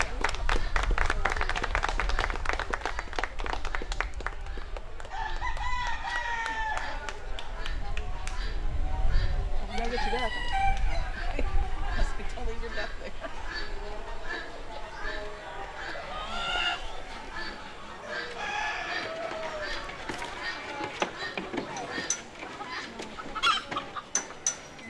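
Chickens and roosters cluck and crow steadily throughout a 4-H poultry show, with scattered applause and people talking over the busy barn noise.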